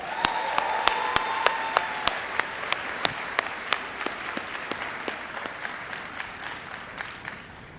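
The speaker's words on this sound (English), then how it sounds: "One more round of applause." Audience applause at a graduation ceremony, sharp claps at a steady, regular beat, gradually growing quieter as it winds down.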